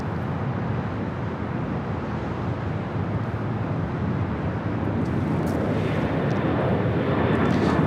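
A Southwest Airlines Boeing 737-800 bound for Oakland flies at Los Angeles International Airport, producing a broad, steady jet roar that builds slightly toward the end, with faint higher whines emerging late and no voices.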